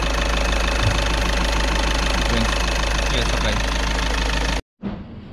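A 1998 Volkswagen Passat B5 with the AFN diesel engine, 240,000 km on it, runs steadily in a workshop with an even, loud clatter, then cuts off abruptly near the end.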